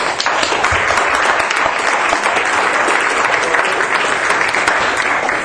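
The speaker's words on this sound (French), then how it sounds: "D'ailleurs, félicitations Raphaël, vous pouvez l'applaudir d'ailleurs." A hall audience at a French-language talk on Canadian federalism breaks into sustained, dense applause that stays steady and loud throughout.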